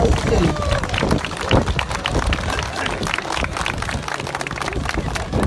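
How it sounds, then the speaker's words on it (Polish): Audience at a public speech about teachers giving dense, sustained applause, many hands clapping rapidly and loudly for the whole stretch, with a murmur of crowd noise. "Wielkie brawa! Jeszcze większe!"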